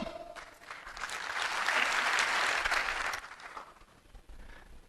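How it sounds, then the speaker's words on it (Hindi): An audience claps on cue at a live talk, but instead of a single clap the sound builds into a few seconds of sustained applause that rises, peaks midway and fades out, with no voice over it. "जब भी मैं हेलो बोलूंगा आप एक बार ताली बजाएंगे"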